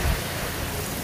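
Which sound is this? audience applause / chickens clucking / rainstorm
rainstorm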